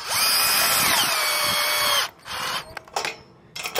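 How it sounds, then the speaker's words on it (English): Power drill driving fasteners on a paddleboard trailer, a loud high whine for about two seconds as the motor spins down, then short bursts of tightening and clicks. "We're gonna use a drill on this one."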